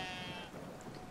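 Sheep bleating in the game Brothers: A Tale of Two Sons, a faint, wavering bleat set within soft, steady ambient game sound.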